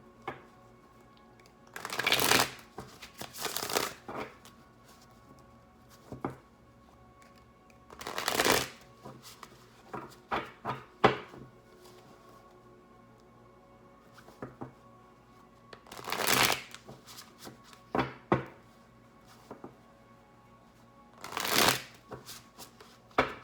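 A tarot deck is shuffled in several separate bursts of riffling and flicking cards, each lasting a second or two with pauses between, close and crisp.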